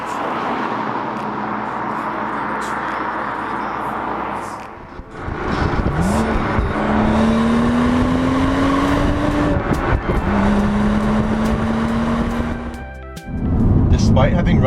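A BMW 335i F30 with manual gearbox, M Sport package and run-flat tires, driven hard: steady engine drone, then a dip and two long rising revving pulls separated by a shift, loud throughout with a voice talking over it.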